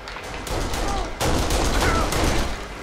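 Dense, loud machine gun fire in the shooter game Kane and Lynch, a continuous rattling barrage of rapid shots that builds after a brief lull, close and overwhelming.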